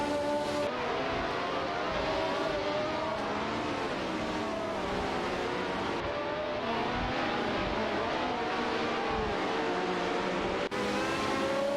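Race cars, among them a Ferrari 312T, roar continuously through a video game race, engines droning and shifting pitch as they battle closely, loud and unbroken throughout.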